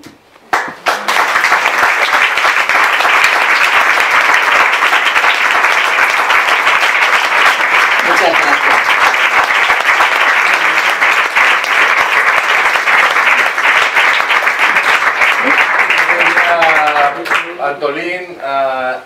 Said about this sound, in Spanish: Antolín, a Eric y a Maya, que salgamos un poquito para que podamos dar un aplauso conjunto.